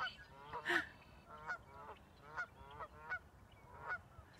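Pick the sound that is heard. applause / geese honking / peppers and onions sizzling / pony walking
geese honking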